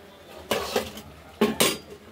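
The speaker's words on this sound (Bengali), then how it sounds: "নাড়া হচ্ছে কড়াইতে, একদম মাখা মাখা হবে।" Bottle gourd peel mash with fried lentil dumplings is stirred in a wok. A utensil scrapes and clinks against the pan in two short bursts, close and fairly loud, with quiet stretches between.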